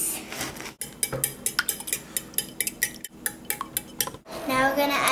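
Three eggs are beaten in a bowl for carrot zucchini muffins, giving a quick, rhythmic clatter of a utensil striking the bowl. The rapid clicks continue through most of the clip, with a brief mixing swish at the end.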